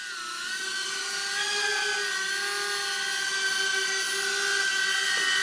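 A HydraQuad 3-in-1 drone hovering nearby, its rotors putting out a steady, loud, high-pitched whine with layered tones that shift slightly in pitch as the throttle changes.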